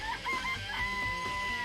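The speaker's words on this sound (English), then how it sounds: "There's some chickens in the chicken coop." Chickens clucking in a coop in the game Danganronpa, a steady run of close, overlapping clucks and short calls with sustained tonal notes, no voices.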